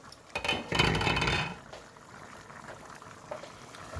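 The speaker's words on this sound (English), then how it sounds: "So we are going to leave this to simmer for like 2-3 minutes" Noodle broth simmers in a pot, a soft bubbling hiss with a louder burst early on that settles into a quieter, steady bubble.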